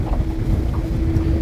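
Wind blows across open water around a fishing boat with a trolling motor, a loud, steady rushing roar with low buffeting close to the mic.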